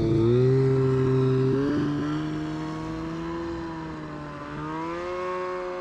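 A turbocharged snowmobile's engine whines and climbs steadily in pitch as it accelerates, loud and close, then dips and surges again, with no talking.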